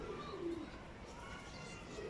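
Low, soft cooing of pigeons, faint and murmuring, with a voice speaking at the same time.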